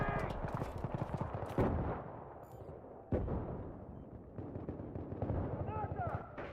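A grenade explodes in Battlefield 3 on PS3, with two sharp, loud blasts rising over steady rattling gunfire and battle noise, and voices call out nearby.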